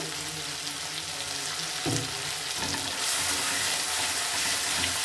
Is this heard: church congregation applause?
no